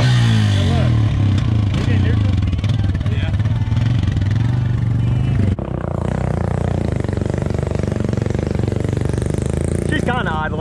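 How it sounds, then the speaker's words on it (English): An ATV engine at an off-road park starts and revs loudly up close, a harsh rattling roar with rising and falling pitch, then drops into a rough, busy idle after a brief break. "Start back up. Give it some gas."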